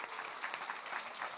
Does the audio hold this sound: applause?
yes